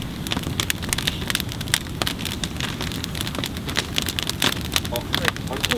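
A large bonfire at a campsite crackles and pops steadily at close range, with a constant hiss and frequent sharp snaps.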